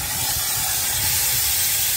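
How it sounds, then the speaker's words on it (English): Steam boiler blower valve releasing a steady, loud, continuous hiss of steam that forces air through the coal fire, with no break across the stretch and no voices. "There's a blower valve right there. It moves a lot of air through the fire using steam."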